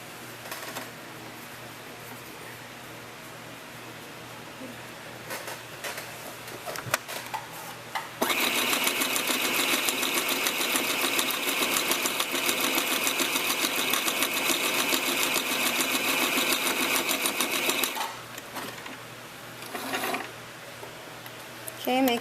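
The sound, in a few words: sewing machine sewing along the edge of a tutu purse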